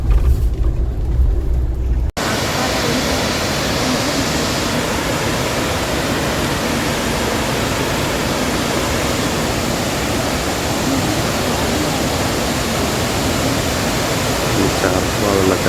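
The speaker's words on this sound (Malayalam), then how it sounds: "വെള്ളച്ചാട്ടം" A waterfall along the forest route from Athirappilly toward Malakkapara roars in a loud, steady rush that cuts in abruptly after a brief quieter moment and then continues unbroken.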